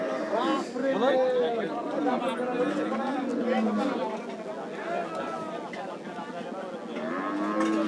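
Cattle moo repeatedly amid a busy crowd of chattering voices at a Rajshahi city cattle market, with someone talking close by throughout.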